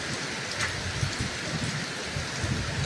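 A sudden evening rain shower falls around 4:50 pm, a steady close patter of drops on surfaces with low rumbling underneath, continuous and fairly soft.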